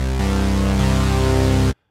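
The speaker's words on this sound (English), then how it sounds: "we're playing with the whole supersaw concept for this patch" A detuned, aliased supersaw synthesizer patch plays a loud, thick, buzzing sustained chord with a couple of slight pitch shifts, then stops abruptly, with no talk.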